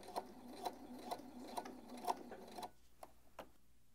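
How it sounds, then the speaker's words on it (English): A sewing machine runs a long straight basting stitch, giving a faint, evenly spaced mechanical ticking of the needle about twice a second, then slowing to a few isolated clicks as it stops. "So you just need to do the largest stitch on your machine."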